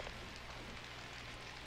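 Rain falls steadily over a burning city in the shooter game Killzone Shadow Fall, a dense, even hiss of drops with no talk over it.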